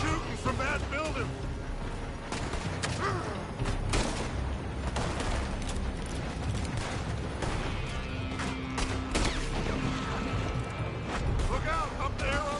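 Scattered gunshots and distant fusillades echo through a Red Dead Redemption shootout, with frequent in-game shouting and talk over the steady clatter of gunfire.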